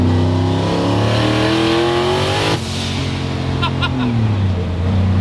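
A big-turbo Coyote V8 swapped into a Shelby GT500 roars and revs steadily, its pitch climbing then dropping as it shifts, loud and close throughout.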